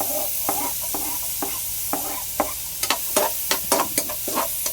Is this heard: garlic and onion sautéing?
yes